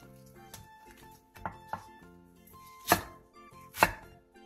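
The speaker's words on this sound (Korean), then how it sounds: "양파 2분의 1개를 큼직하게 자르고 대파 2분의 1개는 길게 반으로 가른 뒤 3에서 4cm 정도 길이로 잘라주세요" A knife chops half an onion and half a leek-style green onion on a board, with scattered, irregular thuds and two sharp, louder cuts near the end, close up and alone.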